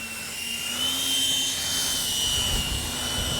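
X-Fly J-65 RC model jet flying, a steady high-pitched turbine whine with a droning roar that swells slightly as the plane passes, continuous and without voices.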